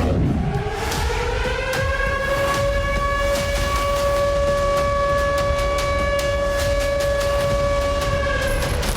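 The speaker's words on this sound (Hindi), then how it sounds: "धमाके के साथ ही इस्फहान में अलर्ट सायरन गूंजने लगे।" A steady wailing alert siren tone holds throughout in Isfahan after an explosion, loud and continuous, with a rising onset at the start and layered harmonics over a noisy background.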